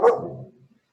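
A dog gives one sharp, close bark that trails off quickly into a brief fading whimper, alone with no talk.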